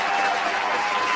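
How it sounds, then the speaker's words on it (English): A short burst of steady, dense audience clapping and cheering for a guest during an interview, close and continuous. "Let me give you a round of applause with one and only Louie Lindsay."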